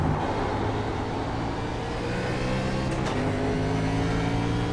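A NASCAR race car engine in iRacing at Watkins Glen holds a loud, steady high-revving drone with a brief shift blip partway through, and no talking.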